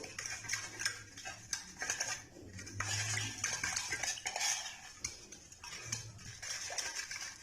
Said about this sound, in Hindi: और अब इसको अच्छी तरह मिक्स करेंगे घी और पानी को।